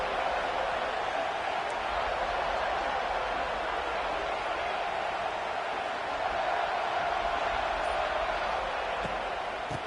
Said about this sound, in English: This crowd, full throat, spreading the eardrums